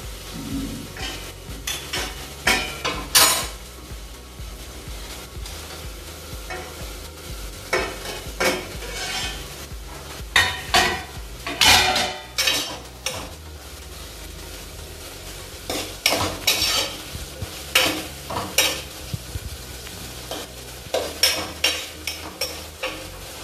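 Vegetables cooking with jaggery in a pan for a traditional Davanagere-style dish are stirred with repeated, rhythmic scraping strokes over a steady low sizzle, close and fairly loud.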